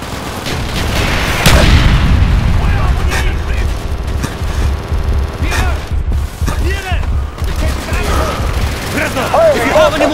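Mortar fire in the video game Call of Duty: Black Ops: loud, close battle noise with repeated heavy booms and crackling gunfire running through the whole stretch, with shouting voices mixed in.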